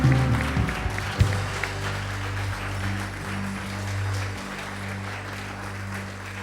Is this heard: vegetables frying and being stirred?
no